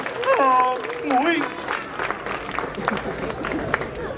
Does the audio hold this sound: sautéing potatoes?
no